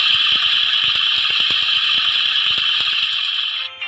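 Faulty cam chain tensioner in a motorcycle engine, heard up close as a steady high whirring mechanical drone laced with rapid irregular ticking and rattling clicks, running continuously before cutting off near the end.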